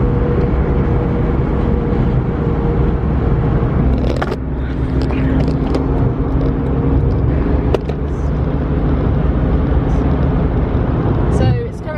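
Steady low road rumble of a car driving, with a constant engine drone and a few brief clicks and rattles over it.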